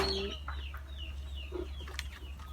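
Laying hens feeding give soft, scattered clucks and calls at a moderate distance, over a constant low electrical hum.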